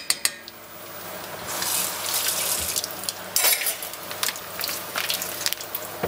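Tap water runs steadily into a home kitchen sink during cooking, a continuous hiss with occasional splashes and clatter, moderately close, no talking.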